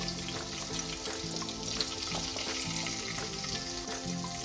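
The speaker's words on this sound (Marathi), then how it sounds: "थोडेसे जिरे टाकायचे। अर्धा चमचा हिंग टाकायचे।" Cumin seeds and asafoetida sizzle steadily in hot oil while a radish stir-fry is being made, a dense continuous crackle close up with a few soft stirring clicks and no talking.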